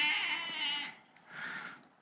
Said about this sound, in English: And I know the sound of a distressed sheep.